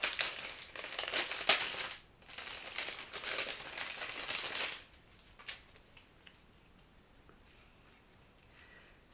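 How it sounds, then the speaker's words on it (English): A plastic bag crinkles and rustles up close in two bursts, then the handling fades to a few quiet scattered crackles. "Excuse the rustling."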